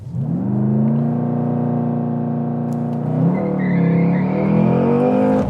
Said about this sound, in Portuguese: Pronto, estamos no stage, vamos carregar o carro.